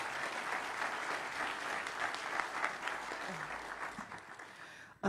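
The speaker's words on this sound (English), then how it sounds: "So please give a round of applause and welcome Councilmember Campbell." Distant round of audience applause at a Black History Month celebration, steady overlapping clapping for about five seconds that thins out near the end before a close bump.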